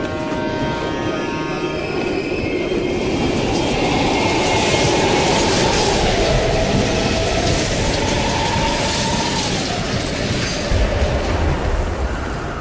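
A train rolling past through an abandoned East German subway station in a Call of Duty: Black Ops Cold War mission, a loud, steady rumble of wheels and carriages with a rising and falling screech, close and continuous for the whole stretch.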